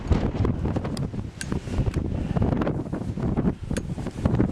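Strong gusty wind buffets the microphone outdoors on a countryside walk past limestone cliffs near Jenkin's Beck, a loud continuous roar with rustling surges and no voices.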